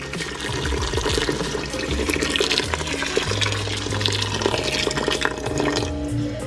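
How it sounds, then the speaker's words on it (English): Hot water pours steadily onto beans in a pressure cooker pot for several seconds, a continuous splashing gurgle that shifts in pitch as the level rises. "To the beans, I'm gonna add some hot water."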